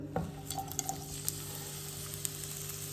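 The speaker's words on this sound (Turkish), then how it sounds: "Hemen bunu tavamıza dökelim." A mixture hitting a hot oiled frying pan, giving a broad steady sizzle with a low constant hum underneath and a few light clicks of utensils, close and even throughout, without any voices.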